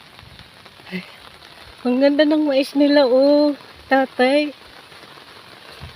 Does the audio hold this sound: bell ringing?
no